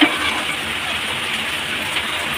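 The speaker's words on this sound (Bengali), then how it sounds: "আর প্রচণ্ড পরিমাণে বৃষ্টি হচ্ছে" Heavy rain pours steadily, making a dense, even hiss that stays loud and unbroken throughout, with no voices.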